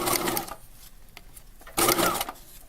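A sewing machine zigzag stitching a tote bag strap, with sandpaper under the fabric beside the needle, runs in two short loud whirring bursts separated by a quiet pause, up close with no talk.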